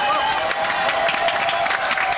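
A studio audience at a French television variety show applauds and cheers, a loud continuous roar of clapping with crowd noise and a sustained tone underneath, filling the whole moment without pause.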